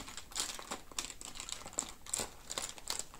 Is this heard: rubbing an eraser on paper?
yes